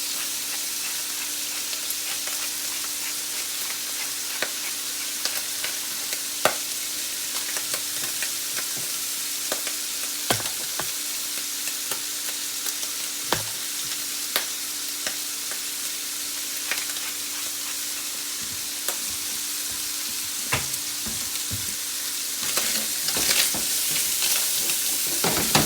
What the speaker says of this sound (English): We'll come back when this sausage is done cooking.